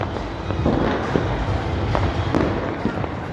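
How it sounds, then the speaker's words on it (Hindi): Dense crackling bursts of firecrackers going off all around during Makar Sankranti in Jaipur, sharp pops layered over a continuous roar of distant explosions. "देखो चारों तरफ पटाखे ही पटाखे चल रहे हैं।"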